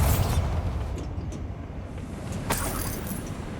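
Bombarda spell explosion in the Hogwarts Legacy video game: a deep, rumbling blast that opens loud and decays into a low roar, with a few sharp debris crackles following.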